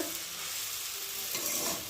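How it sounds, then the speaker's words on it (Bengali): Banana flower stir-frying with spices in a pan, giving a close, steady sizzle with soft stirring scrapes throughout and a brief louder rustle near the end. "মশলাটাও ভাজা হয়ে গেছে, আর মোচাটাও ভালো মশলার সাথে ভাজা হয়ে গেছে"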